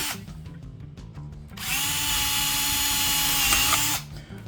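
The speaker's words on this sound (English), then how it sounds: "You drill through, hold it down, drill through." A power drill whirs steadily at high speed for a few seconds, loud and close, starting and stopping abruptly.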